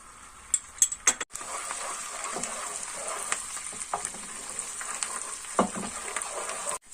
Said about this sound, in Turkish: Salçamızın kokusu çıkarana kadar karıştırıyoruz